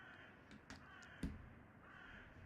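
Crows caw in the game Remember The Flowers, a few sharp scattered calls over a faint ambient bed, with one louder thump-like hit in the middle, all quite quiet.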